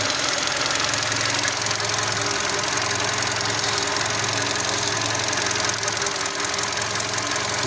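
A Volkswagen Golf 5 engine runs at a steady idle with a persistent ticking knock, loud and close throughout with no one talking.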